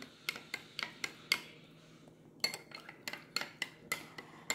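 A spoon stirs aam panna, a mango drink, in a glass, making a quick run of bright clinks against the sides, a short pause, then another rapid series of taps, close and fairly quiet.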